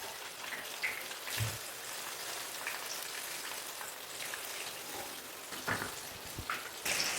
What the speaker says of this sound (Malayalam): ഇനി അടുത്ത സൈഡ് മറിച്ചിട്ട് ഫ്രൈ ചെയ്തെടുക്കാം.